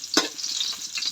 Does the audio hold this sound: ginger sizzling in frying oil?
yes